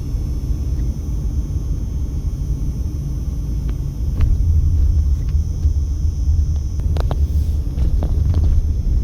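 Traffic rumbles along Las Vegas Boulevard, a continuous low roar of passing cars and engines with brief higher clatters, no talking.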